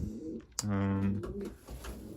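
Racing pigeons in a loft give a low, throaty coo up close, with other soft bird sounds and someone talking over them.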